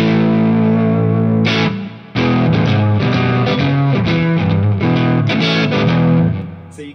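Clean electric guitar played through a Hook Wizard pedal set like a tube screamer, with mids boosted and bass cut, ringing out strummed chords and picked notes alone, loud and close, with a brief gap partway.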